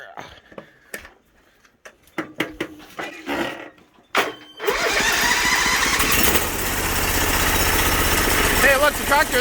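A few sharp clanks and knocks, then a Sears Bolens diesel tractor engine cranks and catches, settling into a loud, steady rumbling idle that runs continuously, in snow.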